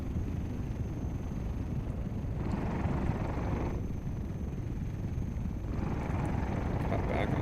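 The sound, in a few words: ornithopter engine in flight, from a video game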